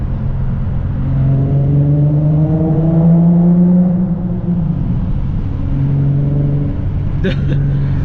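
An Infiniti G35 sedan engine drones and revs loudly in a tunnel, with a deep, booming exhaust that rises and falls, echoing in the enclosed space.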